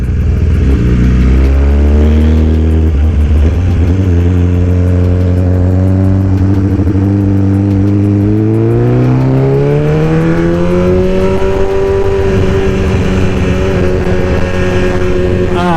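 2020 BMW motorcycle accelerating onto a highway, a loud close engine climbing through the gears with rising and falling revs, a brief dip between shifts, and wind rush underneath.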